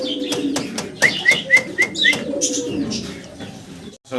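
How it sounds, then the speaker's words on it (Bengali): A white dove coos in a rhythmic series of soft, close calls, repeated several times in a steady pattern, with faint chirps and background noise around it. "এর যে ডাক সারা ভিডিওতে ডাক শুনছেন যে ঘুঘু পাখির"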